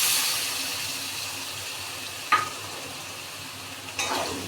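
Tomato paste added to frying spice masala in oil for a taro curry gives a steady, soft sizzle, broken by two short utensil clatters near the end.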